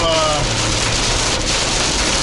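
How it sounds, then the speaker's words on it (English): Heavy rain drums steadily on an RV while it is driven through a storm in heavy traffic, a dense continuous wash of patter at close range, with a voice briefly present at the start. "this rain has gotten pretty crazy, I have to say"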